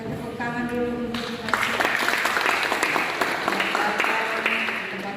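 An audience at a scripture-telling competition bursts into applause, dense clapping that starts about a second in, after a brief sustained tone, and stays steady and fairly loud, with a voice speaking over it.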